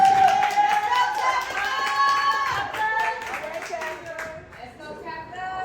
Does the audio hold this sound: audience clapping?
yes